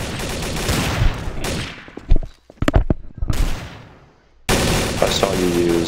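Gunfire in a Garry's Mod Jailbreak round rattles off in rapid bursts, with sharp, separate shots spaced between loud stretches of game noise and a near-silent gap before the din returns.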